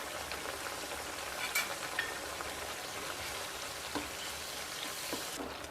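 Green garlic paste sizzling in a pan, a faint continuous crackle like light rain with a few small pops, heard close and without voices.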